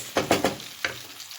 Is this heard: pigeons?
no